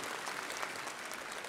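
Audience at a political speech by a BJP leader in Talkatora Stadium applauding, a brief, fairly faint wash of many hands clapping from a distance.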